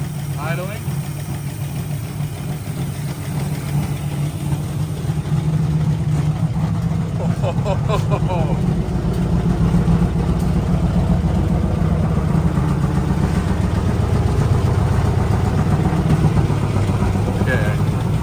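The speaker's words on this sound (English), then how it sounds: "All right, we are idling." A 1965 Ford Mustang engine idles steadily with a low, rumbling hum that holds at an even level throughout.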